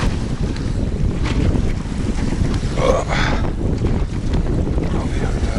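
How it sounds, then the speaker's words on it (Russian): Steady rushing wind buffets the microphone over a continuous wash of river water and lapping waves, loud and unbroken throughout. "Вот, смотрите, как волны идут."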